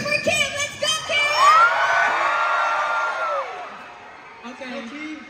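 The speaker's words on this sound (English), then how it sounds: "Let's go, raise up my three, two, one, cheer for Kim" A fan meeting crowd for the group HORI7ON cheers and screams on cue, high excited voices rising together and then fading, with a short spoken call at the start.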